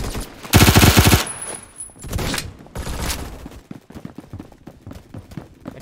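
Gunfire in the Roblox game Phantom Forces: a loud, rapid automatic burst up close, followed by a few shorter bursts and scattered quieter shots and clicks.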